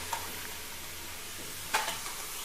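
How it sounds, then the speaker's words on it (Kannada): Country chicken pieces hit a hot, empty pressure cooker with no oil, giving a faint continuous sizzle with a sharper burst of frying and stirring near the end. "ಖಾಲಿ ಕುಕ್ಕರ್ಗೆ ಕೋಳಿ ಹಾಕ್ತಾ ಇದ್ದೀನಿ."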